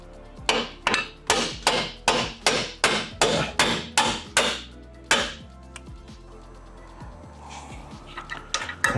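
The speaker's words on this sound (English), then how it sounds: "Get a hammer, smack it" A hammer strikes a front strut assembly on a Honda CR-Z, pounding the part into place with about a dozen loud, evenly spaced metallic blows, then stopping, followed by a few lighter taps and clinks.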